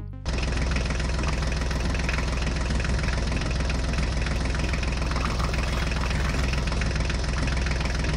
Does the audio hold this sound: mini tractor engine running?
yes